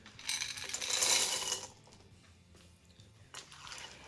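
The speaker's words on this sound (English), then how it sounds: "We're going to add in 2 cups of white chocolate chips and 1 10-ounce jar of maraschino cherries" Two cups of white chocolate chips and a drained, chopped jar of maraschino cherries tumble into Christmas cherry white chocolate chip cookie dough, a bright rattling pour over about a second, then faint shuffling and a brief later clatter.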